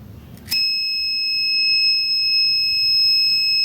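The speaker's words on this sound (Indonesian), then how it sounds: "Nanti buzzer akan berbunyi menandakan bahwa ada api." After a brief low rumble, the piercing electronic buzzer of an Arduino fire detector starts abruptly and holds a continuous high-pitched tone to the end.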